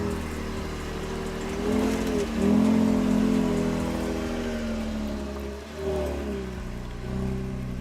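A vehicle engine drones and rises in pitch as it revs under load, with a steady rushing noise underneath and no voices.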